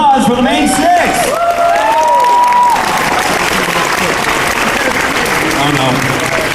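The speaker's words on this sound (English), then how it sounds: "One more round of applause for the main six." A convention hall crowd claps loudly and continuously for costumed contestants at a pony-fandom cosplay contest, with a host's voice speaking over the start of the applause.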